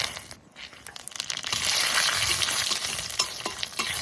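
Dried red chillies, bay leaf and five-spice seeds sizzling in hot oil in a Bengali home kitchen, a dense steady crackle swelling louder midway, with scraping stirs, no talk.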